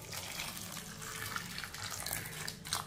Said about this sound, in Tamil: கொஞ்சமாக தண்ணி ஊற்றிக்கிடுவோம்.